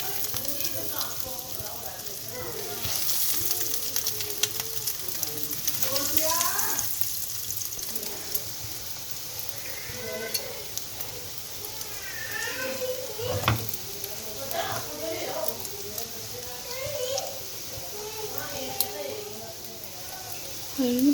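Chicken cutlets frying in oil, a continuous soft sizzle with occasional clinks, heard close up under a voice talking throughout.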